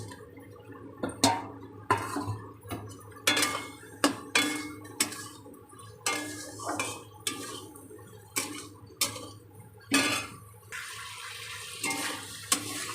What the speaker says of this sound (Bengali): এবার দিয়ে দেবো এর মধ্যে ভেজে রাখা চিংড়ি মাছ।